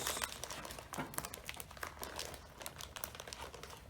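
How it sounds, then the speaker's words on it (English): Shredded coconut shaken inside a gallon Ziploc plastic bag makes continuous, close crinkling and rustling with irregular crackly bursts, fairly soft and with no talking. "you want to take a big Ziploc gallon bag because the coconut needs lots of room to move around"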